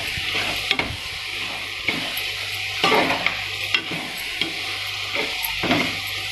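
Vegetables for veg biryani fry in hot oil in a pan, giving a steady sizzle, while a utensil stirs and scrapes at intervals with several sharp clinks close by.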